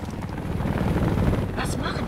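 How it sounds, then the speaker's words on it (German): A Korean reconnaissance helicopter in the video game Homefront drones loudly and steadily, its deep rotor thrum filling the scene with a few higher noise bursts over it. "Ich höre einen Helikopter. Da, koreanischer Aufklärungshubschrauber"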